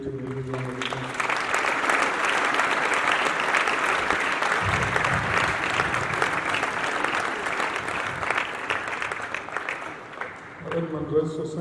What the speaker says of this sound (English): Please give debating a big round of applause.